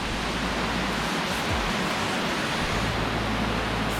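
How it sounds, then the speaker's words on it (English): The Gambling waterfall, reached by a stepped trail, roars as a dense, constant broadband rush of falling water, loud and close throughout with no voices. "we just arrived at the Gambling waterfall"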